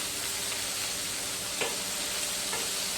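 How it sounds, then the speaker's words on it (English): Chicken wings sizzle steadily on a grill at a garage cookout, a constant broadband hiss with a couple of faint clicks, no talk. "my spatula's washed so I can touch their wings. They're browning up nice."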